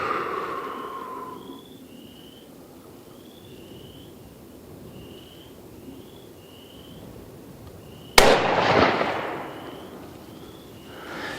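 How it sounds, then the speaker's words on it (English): A single loud, close rifle shot from a CVA Cascade in 7mm PRC firing a 180-grain load, a sharp crack with a rolling echo, after a quiet stretch with faint bird chirps. "First shot with the 180 grain."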